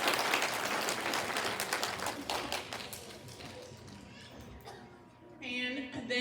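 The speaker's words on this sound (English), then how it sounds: "Can I hear a round of applause for those families that" A pinning ceremony audience applauds for nursing students' families in a dense burst that thins out, before a voice starts speaking at the end.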